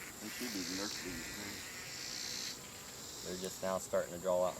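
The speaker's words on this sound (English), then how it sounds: "They should be the nurse bees." Nurse honey bees buzzing inside a tree being cut open, a steady insect hum at moderate level that continues under a voice speaking nearby.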